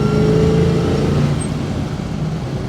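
A 1969 Chevrolet Camaro SS 396 heard from the passenger seat in third gear, its big-block V8 a loud, steady low drone mixed with road and cabin rumble.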